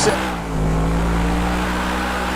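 A car with a 3.5 litre engine accelerates steadily in GTA 5 on a Top Gear test track map, turning into the hammerhead; a continuous loud engine drone holds throughout with a brief higher burst at the start.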